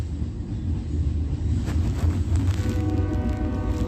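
A train horn sounds in the early-morning hours near the Ontario Museum of History and Arts, faint and distant, with a few tonal blasts over steady low rail rumble and wind noise; no one speaks.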